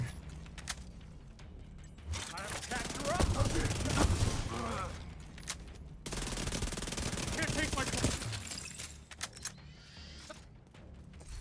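Video game turrets firing in a frenzied burst, a dense, loud rattle of rapid automatic shots with mechanical clanks, running almost continuously with brief lulls.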